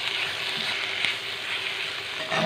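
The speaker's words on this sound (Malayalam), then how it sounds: "സവാള ഒന്ന് ഒരു പരുവം മൂത്ത് വരുമ്പോൾ നമുക്ക് ഈ തക്കാളി കൂടെ ചേർത്തിട്ട് വഴറ്റിയെടുക്കാം." Sliced onions and tomato sautéing in a pan for a Kerala-style chicken curry, a steady bright sizzle with a faint stir or scrape, no talking.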